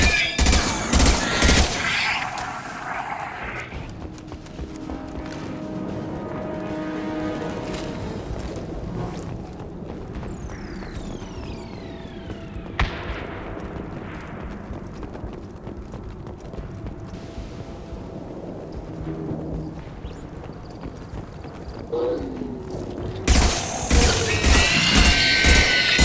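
Combat gunfire from the video game Mass Effect 2, with dense, sustained shots and bursts rolling on at moderate loudness under a busy game soundscape, growing louder and sharper near the end.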